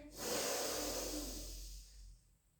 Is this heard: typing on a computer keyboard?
no